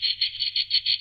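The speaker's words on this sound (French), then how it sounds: "Je vais vous retrouver le cri de notre cigale." A French cicada's song plays back as a continuous high buzzing drone, pulsing in quick regular swells of loudness, alone with no voices.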